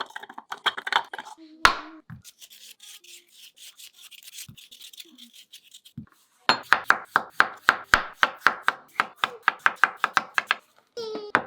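A knife chops food on a cutting board while dinner is being made, with scattered knocks and brief pauses early on, then a long run of quick, even, close chops.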